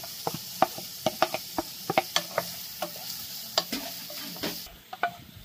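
Garlic sautés in a pan for chicken paksiw, a quiet sizzle under a string of sharp, irregular spatula clicks and scrapes against the pan.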